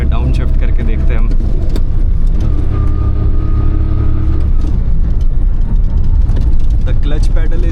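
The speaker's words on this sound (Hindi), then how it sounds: "तो एक बार ज़रा इसमें डाउन शिफ्ट करके देखते हैं हम।" A 27-year-old Maruti 800 car engine drones loudly and steadily while downshifting on a hill climb, heard from inside the cabin with a voice talking over it.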